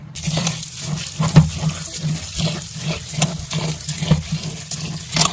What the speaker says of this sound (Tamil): இதை நம்ம நல்லா கழுவிட்டு அப்புறமா இதை கழுவி ரெண்டையும் ஒன்றா சேர்த்துக்கலாம்